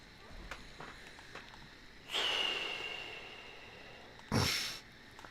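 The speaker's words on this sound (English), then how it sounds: "You can't sniff whenever you're doing a recording on the radio and everything else." Close, sharp sniffs and snorting breaths into a radio studio microphone, two louder bursts standing out against a quiet background, with faint smaller breaths before them.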